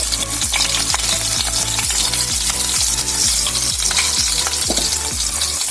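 Ginger and green chilli frying in hot oil for chilli paneer, a loud continuous sizzle with rhythmic scraping strokes of a spatula stirring the pan.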